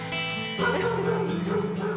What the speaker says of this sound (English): The kennels. It's a lot of dogs.